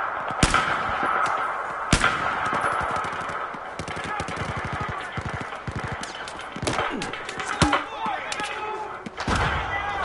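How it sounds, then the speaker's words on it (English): Video game gunfire, with bursts of rapid automatic shots and single loud bangs over a busy, continuous game soundscape, close and prominent, with a player's voice in between. "it takes all my damn bullets just to shoot this one dude."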